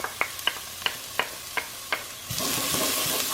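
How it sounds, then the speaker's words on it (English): Minced garlic hits a pan of softened onions: a run of about seven sharp scraping stirs, then a sudden broad, steady sizzle of frying that carries on alone. "Now I'm adding 4 cloves of minced garlic."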